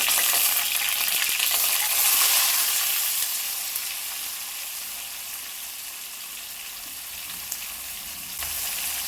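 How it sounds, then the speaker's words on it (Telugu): Chopped onions, green chillies and curry leaves fry on a high flame in a pan for fish biryani, a steady loud sizzle and crackle that eases slightly partway through, with no talking. "హై ఫ్లేమ్లోనే పెట్టానండి, ఎందుకంటే ఫ్రైగా చేసుకుందాం అనుకుంటున్నాను కదా, రోస్ట్గా"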